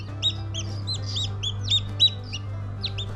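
High, chirpy peeping from several small Australorp chicks being placed with a broody hen repeats in quick bursts over a steady low hum, with no clear hen clucks standing out.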